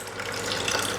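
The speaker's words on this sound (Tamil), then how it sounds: "ஒரு டம்ளர் தண்ணி தோராயமா நான் உங்களுக்கு ஊற்றி காமிக்க போறேன்" Water is poured into a tumbler while preparing a herbal kashayam decoction, a steady close splashing trickle lasting about a second.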